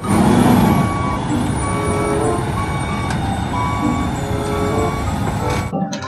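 A toy cement mixer truck plays its sound effect: a loud, steady engine rumble with regularly repeating high reversing beeps, close by and sustained for several seconds before cutting off abruptly.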